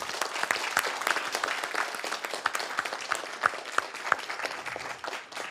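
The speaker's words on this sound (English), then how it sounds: "So let's give a round of applause." Audience applause at a city council meeting honoring supporting agencies, steady dense clapping with a few sharper individual claps standing out, sustained at moderate level before tapering slightly at the end.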